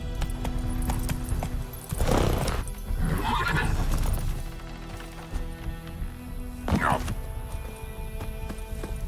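Geralt's horse Roach in Witcher 3 whinnies loudly amid hoofbeats and galloping movement, set against steady game ambience and music, while a voice speaks briefly over it.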